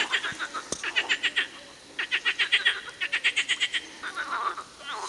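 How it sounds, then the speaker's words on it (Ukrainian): Frogs croaking in mating season in rapid rhythmic bursts, several pulsing trills in sequence with short gaps, fairly close and loud against a quiet outdoor background near a pond. "У жаб шлюбні ігри."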